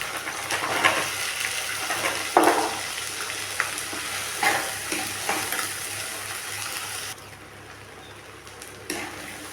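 Small shallots sauté in oil for a pepper kara kuzhambu, a busy close sizzle with several sharp spoon knocks and scrapes against the pan, the hiss dropping lower toward the end.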